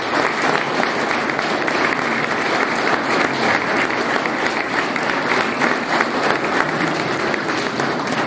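An audience at a Saint Barbara firefighters' ceremony in Lourdes bursts into dense, sustained applause for a firefighter awarded the Légion d'honneur, loud and even with a faint crowd murmur beneath.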